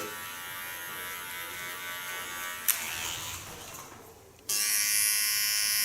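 An electric hair clipper cuts a short feminine hairstyle, giving a steady close buzz that shifts briefly, softens and dips, then returns louder and fuller; no one speaks.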